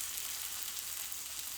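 Venison rolled roast searing in a hot pan, giving a steady, even sizzle that holds at a constant level throughout with no voices.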